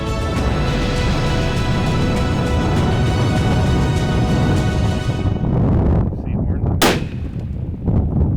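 A single loud rifle shot cracks out near the end during a buck hunt, following several seconds of steady wind rumble and broadband outdoor noise.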